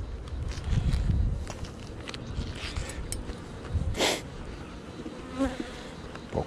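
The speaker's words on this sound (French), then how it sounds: "puis là il y a 2 abeilles pour le peu de cadre" Honeybees buzz around hive frames outdoors, individual bees droning past close to the microphone in intermittent passes, with some handling rustles and bumps in between.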